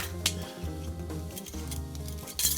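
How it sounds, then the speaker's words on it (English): Small clinks, taps and a lid being worked open on a cream of tartar container, followed by light metallic rattling as a measuring spoon is picked up, close and quiet. "Let me open that up and get my measuring spoon."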